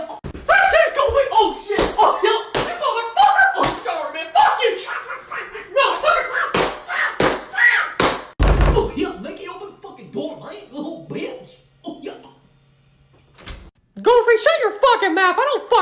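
Someone bangs and knocks hard on a closed door, a rapid run of loud, close slaps and thuds mixed with raised, shouting voices and a short quiet stretch near the end.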